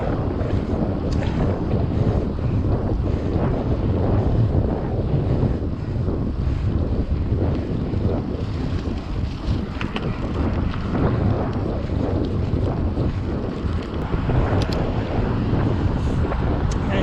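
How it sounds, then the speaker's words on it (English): Steady cross headwind roars over the microphone throughout a ride on an electric bike pedalled without motor assistance, a loud continuous buffeting rush with no voices heard. "We're dealing with cross headwind, and that's definitely slowed us down to below 25 kilometers an hour."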